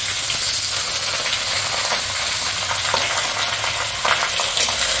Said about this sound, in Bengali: এবার এতে পেঁয়াজটা দিয়ে দিলাম